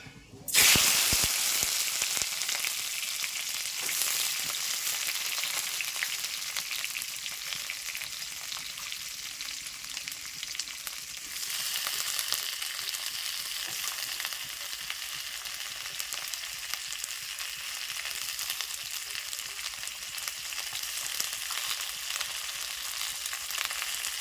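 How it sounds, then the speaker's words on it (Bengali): Tomatoes and panch phoron five-spice fry in a pan, a steady close sizzle that starts loudly and holds at an even level throughout, with faint stirring and no talk. "দিয়ে দেবো পাঁচ ফোড়ন এবার দিয়ে দেবো টমেটো"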